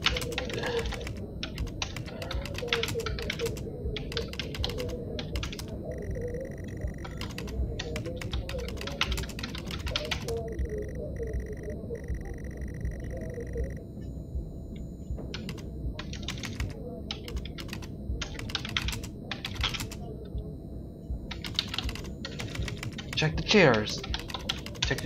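Keyboard typing from the video game Stories Untold, a close, quick patter of key clicks in repeated bursts with pauses between, running under a player's steady talk across the whole stretch.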